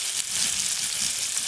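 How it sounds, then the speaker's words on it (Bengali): Bitter gourd pieces fry in a pan, a steady close hiss of bubbling oil with faint low stirring movement underneath. "করলাগুলো একদম লাল লাল করে ভালো করে ভাজা হয়ে গেছে"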